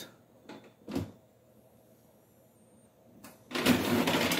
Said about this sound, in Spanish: nuestra impresora pues ha comenzado a imprimir correctamente